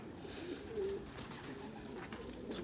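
Oynar tumbler pigeons coo softly in a loft, with low, throaty bird calls repeating faintly against a quiet background.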